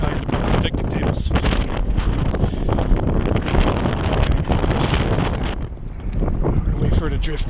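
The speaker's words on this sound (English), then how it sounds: "Way too gusty, way too strong winds." Strong, gusty wind blows across a beach at a kitesurfing spot, loudly buffeting the microphone in uneven surges that ease briefly near the end before picking up again.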